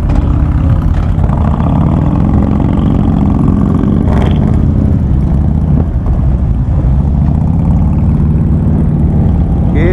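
Loud, continuous engine rumble of a motorcycle idling and revving gently while warming up, close by, with a steady throbbing drone throughout.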